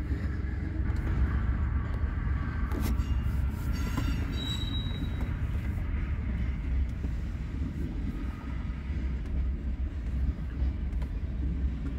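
A Burlington Northern coal train rolls through Hobson Yard in Lincoln, Nebraska, a steady heavy rumble of cars with intermittent wheel squeals, loud and continuous throughout.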